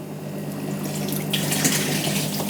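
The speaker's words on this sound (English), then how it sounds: "the water we're filling up with is cold" Cold tap water runs steadily while fish tanks are being filled, a continuous close hiss and splash that swells slightly louder partway through, with no voices.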